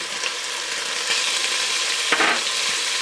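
Bison meat browning in a hot pan, a steady loud sizzle and crackle with a brief burst of spatter partway through, no voices.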